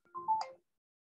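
A phone's ringtone chirps once during a database systems class, a short bright melodic burst lasting about half a second and then cutting to silence.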